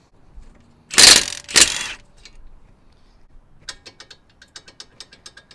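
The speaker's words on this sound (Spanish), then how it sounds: "vamos a, usar el impacto de media con un dado de 17 milímetros so, vamos a quitarlo" A half-inch impact wrench with a 17 mm socket loosens a nut on a Toyota Camry stabilizer bar link: two loud close bursts of hammering, followed by a run of light, evenly spaced mechanical clicks as it spins down, without speech.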